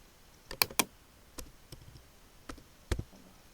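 Someone types on a computer keyboard, with a few sparse, quiet clicks and a short burst of close keystrokes in a still room.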